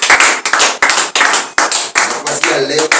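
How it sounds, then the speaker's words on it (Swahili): A church congregation claps together for Jesus in rhythmic bursts, loud and close, with short pauses between volleys and a voice faintly underneath near the end. "Piga Yesu makofi mazuri"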